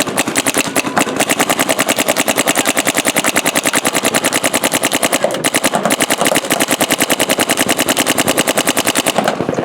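A paintball gun firing Canadian paintballs, its O-ring not sealing, lets off a loud, rapid, steady string of shots in quick rhythm that runs almost continuously, with only brief hitches.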